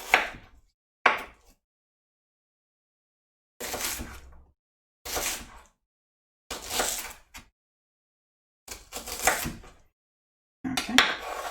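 A knife cutting an onion in half and into small chunks on a board for cowboy caviar: several separate, close, scraping chop bursts of about half a second to a second, each divided by clear silence.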